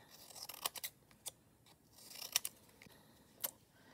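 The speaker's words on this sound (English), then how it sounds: "Use your scissors and make little strips." Scissors snip paper into little strips in a quiet room, with a string of crisp, close cuts in small irregular bursts.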